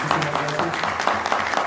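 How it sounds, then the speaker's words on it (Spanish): An audience claps in a steady burst of applause, dense and lively throughout. "un aplauso."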